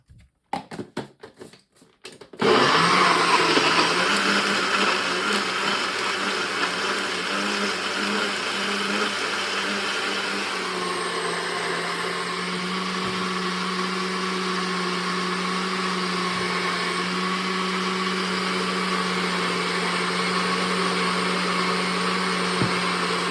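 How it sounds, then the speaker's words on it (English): An electric blender starts up after a few clicks and runs loudly and continuously, its motor whirring steadily with a slight drop in pitch midway. "we're gonna blend it up and make a little bit of a noise"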